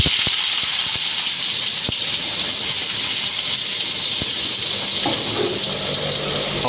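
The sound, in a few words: chopped onions sizzling in hot sunflower oil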